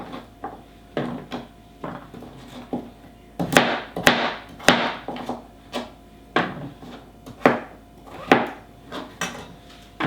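A knife slices butternut squash on a cutting board, with a series of firm, irregular chopping thuds and clacks that come close and fairly loud, with no talking.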